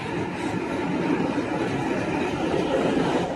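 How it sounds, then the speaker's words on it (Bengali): A stone-loaded freight train hauled by a double locomotive rumbles across the Nasipur rail bridge during a load test, a dense continuous rolling roar with no break. "নসিপুর রেল ব্রিজের ওপরে পাথর ভর্তি গাড়ি এবং ডবল লোকোমোটিভ নিয়ে একদম"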